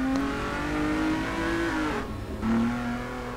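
Lotus sports car engine from Test Drive Unlimited 2 revving hard, a steady loud harmonic drone that rises in pitch, dips briefly and climbs again, with no voices over it.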